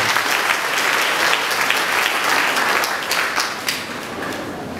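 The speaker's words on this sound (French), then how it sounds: "Merci en pile, applaudissez-les." A congregation applauds at a celebration marking the 50th anniversary of a diocese, steady and fairly loud clapping that carries on throughout without pause.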